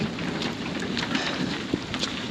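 Rain falls steadily during a thunderstorm at a quarry on a bushwalk, a dense, even hiss of drops close by with occasional louder splashes and no talking.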